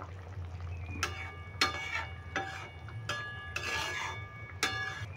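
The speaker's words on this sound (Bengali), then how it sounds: "আমি একটু খুন্তি করে নেড়ে দিচ্ছি।" A spatula stirs pointed gourd (potol) in a pan over medium heat, with sharp scrapes and clinks at irregular intervals over a quiet, low sizzle.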